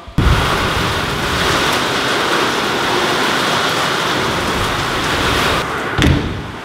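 Heavy rain with wind outside, a dense, loud, continuous roar of downpour that holds steady throughout, with a thump at the start and another near the end.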